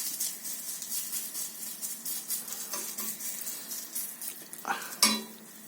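Small blobs of oat batter sizzle in a hot frying pan, a soft continuous crackle close by, punctuated by a few sharp clinks and scrapes of a utensil against the pan toward the end.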